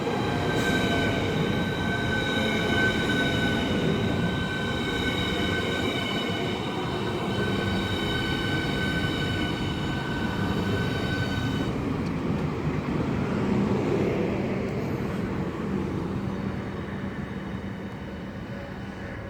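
Southeastern Class 395 high-speed train arriving on HS1 at Ebbsfleet International, a loud rumbling approach with high whining tones and wheel squeal that cut off as it slows and comes to a clean stop, the rumble fading at the end.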